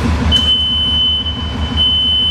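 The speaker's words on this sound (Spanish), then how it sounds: "Ahí mismo nos cercioramos que la alarma de avance también funciona." A Genie Z45/25N electric articulated boom lift sounds its forward travel alarm, a steady high-pitched electronic tone held for about two seconds over a low machine hum, close and loud.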